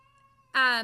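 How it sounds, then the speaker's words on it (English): A single loud, drawn-out cat meow bursts in near the end after a quiet stretch with a faint steady hum. "Sorry if you hear my cat meowing in the background."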